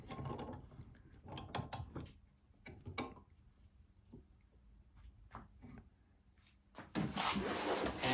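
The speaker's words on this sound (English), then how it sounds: "I am going to clamp it in here." An NSU Prima scooter transmission part is worked into a bench vise, with scattered metallic clunks, scrapes and ratcheting knocks, then a louder rushing noise near the end, close by and without speech.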